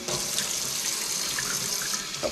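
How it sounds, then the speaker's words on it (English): Water from a tap pours steadily into a rusty tin can, a continuous close hiss and splash of filling with no break and no voices. "I'm going to fill the can up,"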